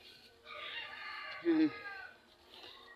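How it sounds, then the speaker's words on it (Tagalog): A chicken clucks once, close and fairly loud, over a steady outdoor background hiss. "sarap na sarap yung mga manok ko magkakain"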